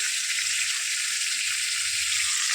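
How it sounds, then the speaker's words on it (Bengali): Spice mix of cumin, coriander, chilli and turmeric powders with salt sautéing in a pan alongside fried prawns makes a continuous, loud, even hiss with no pauses and no talk. "এবার আমি কষাই। এবার দেখুন, আমি মশলাটা দিয়ে দিলাম।"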